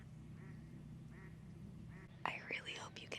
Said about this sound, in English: I really hope you can hear these ducks.